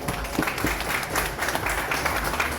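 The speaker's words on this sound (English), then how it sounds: "So let's practice with a big round of applause," An audience at a red carpet event supporting mental health breaks into a big round of applause, dense continuous clapping close by.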